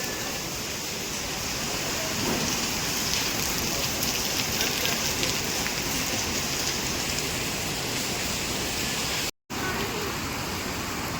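Heavy monsoon rain pours down in a dense, constant roar with no letup at Marleshwar temple, broken only by a brief gap near the end.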